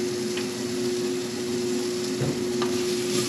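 Piperada vegetables are stirred in a hot pan, with a soft scraping and a steady, gentle sizzle close by. A faint hum runs underneath.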